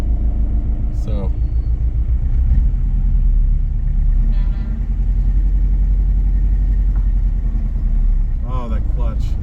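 A 1950 Ford Police Special out on the road, its engine a steady close low rumble running throughout, with a few brief clicks and light sounds on top and people talking over it.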